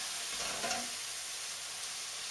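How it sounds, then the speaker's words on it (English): Chicken pieces fry in a pan for fried rice, a steady sizzle with a brief clatter as tongs turn a piece over, then continued frying. "I am just using the set of tongs just to turn it over, just to make sure all sides are properly cooked"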